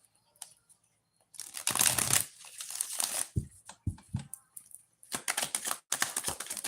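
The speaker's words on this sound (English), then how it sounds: "One more shuffle." A deck of tarot cards is shuffled up close, giving bursts of riffling, snapping card noise separated by brief pauses, with no talking.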